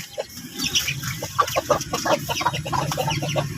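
Rhode Island Red hens clucking close by, a busy run of short, overlapping clucks and throaty murmurs with no pause.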